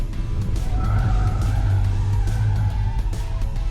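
A Changan Deepal electric SUV skids through a sharp right turn, tyres squealing in a sustained loud screech over road rumble, close and without speech.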